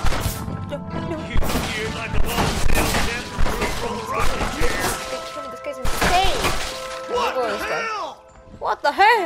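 Gunfire in the Western video game Red Dead Redemption, with rapid shots and crashing impacts under loud, excited talk from a player, bursts clustering in the opening seconds and again later.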